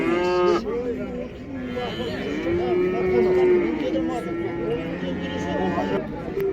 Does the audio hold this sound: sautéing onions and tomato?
no